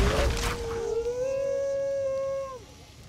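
A dog in Skyrim lets out a long, rising howl after being shot, a single sustained cry that holds steady then trails off, following a brief burst of noise.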